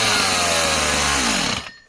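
A vintage 1960 chainsaw engine runs loud and close, revving unevenly as it starves of fuel, then the pitch sags and the motor dies out near the end.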